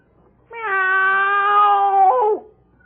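A voice imitates a cat, giving one drawn-out, clear meow that rises and bends down at the end, close and loud, with no other sound around it.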